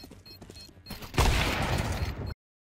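Counter-Strike 2 gunfire erupts as a loud, sustained burst of shots in a match, preceded by quieter game sounds and clipped off abruptly after about a second.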